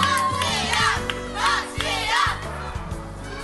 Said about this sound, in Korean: 선거 득보를 붙이러 온 후보자를 반기는 함성이 제법 큰데요